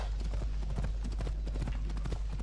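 Horse hooves clip-clop at a steady trotting rhythm in the video game Assassin's Creed Odyssey, fairly faint and continuous over a low background hum.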